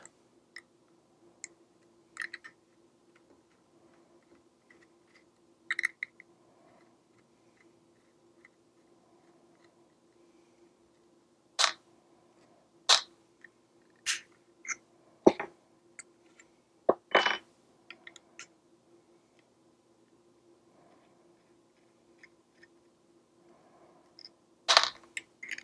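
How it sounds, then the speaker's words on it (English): Small metal screws being backed out of Gamo airgun scope rings with an Allen key: scattered sharp clicks and ticks, close and fairly quiet, separated by near-silent pauses. "You can take your Allen key and simply remove the screws from the top."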